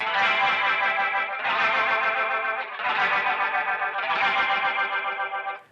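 Bright, distorted organ tones pulse with the fast warble of a GFI System Synesthesia rotating horn speaker effect, swelling in repeated phrases before cutting off.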